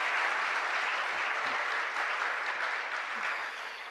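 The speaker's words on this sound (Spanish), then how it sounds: "lo hacemos con un fuerte aplauso" A parish congregation gives sustained applause inside a church, a dense even roar of clapping that holds steady and eases off slightly near the end.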